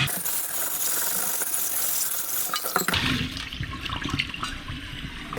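A chainmail scrubber working a cast iron pan under running hot water in a kitchen sink, a continuous wet rushing swish with scraping texture that thins out to looser splashes and clinks partway through.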